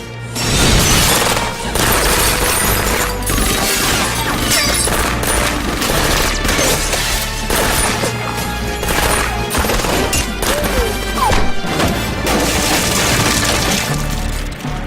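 Rapid gunfire and shattering glass fill a TV show shootout scene as shooters fire freehand at glasses and props, dense and loud bursts continuing nonstop with crashes layered over music-like tones.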